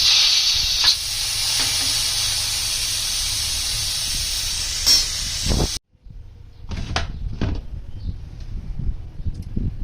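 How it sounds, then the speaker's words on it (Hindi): Steam rushes out of a pressure cooker holding beef in a loud, steady hiss that lasts several seconds and then stops abruptly, followed by quieter scattered kitchen knocks and rustles. "अब इसकी स्टीम रिमूव कर देंगे।"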